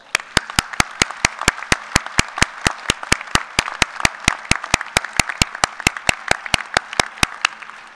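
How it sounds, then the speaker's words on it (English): An audience at an engineering fall commencement ceremony applauds, with steady, evenly paced claps over a dense crowd wash that keeps going unbroken for the whole stretch. "Graduates, join me in giving your loved ones a big and well-deserved round of applause."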